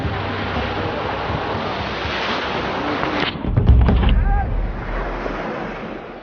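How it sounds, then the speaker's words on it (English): Sea waves roll in on the Somaliland coast, a constant loud wash with heavy wind buffeting the microphone, and one stronger surge breaking near the middle. "you will see a different side to Somaliland, the sea."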